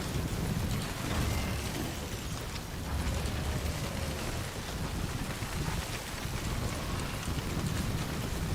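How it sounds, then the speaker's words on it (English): Steady, roaring wind blows across an outdoor landscape in the video game Death Stranding, a dense, continuous rush at moderate level with no voices. "It's so windy!"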